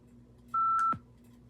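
A Victor Reader Stream talking book player gives a single clean electronic startup beep, a steady tone lasting under half a second, close and clear over a quiet background hum.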